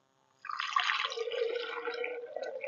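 Water is poured steadily into a foaming vinegar mixture for plant care, a close, continuous splashing and gurgling stream that starts suddenly and runs without pause, with no voices.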